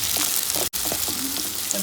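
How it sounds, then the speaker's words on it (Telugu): Onions fry in a pan for ponnaganti koora fry, giving a steady, close crackling sizzle with small popping bursts throughout. "ఆనియన్స్ కొంచెం కాలిన తర్వాత ఎండుమిర్చి వేసుకున్నాం"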